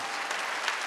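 A church congregation claps at a Wednesday worship service, a dense, continuous burst of applause filling the room for a moment.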